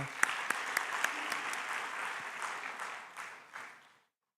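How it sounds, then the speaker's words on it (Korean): Congregation at a Christmas Day church service applauding a person in the pews, with a few sharp claps at the start, then steady clapping that swells and fades out after about four seconds. "우리 박수 한번 쳐주세요"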